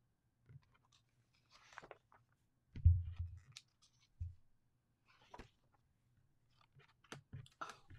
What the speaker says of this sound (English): And you just cut it out.